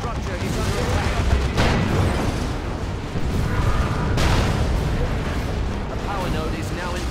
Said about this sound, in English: here's the Demolisher cannon shot